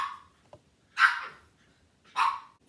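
Indoors, puppies bark twice with clear pauses between, preceded by a short fading yip, close and fairly loud with no one talking.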